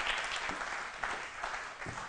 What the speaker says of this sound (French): On va t'applaudir pendant que tu marches.